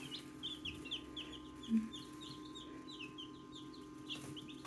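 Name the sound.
newly hatched chicks peeping under heat lamp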